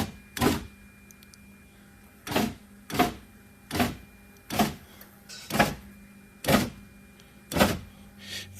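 A Nissan Xterra power window motor, with the door panel off during a regulator job, whirs in eight short, evenly spaced bursts as the window is lowered bit by bit, close and clear against a quiet background.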